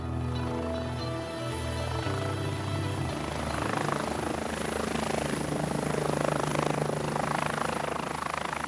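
A helicopter in flight on a rescue mission, its rotor and engine making a steady, close drone with a high turbine whine, shifting slightly in pitch, with no talking.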